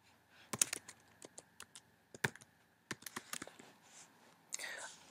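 Irregular clicks of keys typed on a computer keyboard, close and quiet, with scattered taps and a brief burst near the end.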